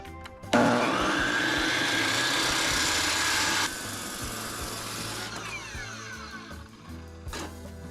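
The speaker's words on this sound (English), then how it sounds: "These beam saws are fun, but you better grip these things like they're gonna kill you, because they will." A handheld beam saw cuts lumber for house framing, a loud whining buzz that starts abruptly, holds steady through the cut, drops in pitch partway, then winds down, with a short knock near the end.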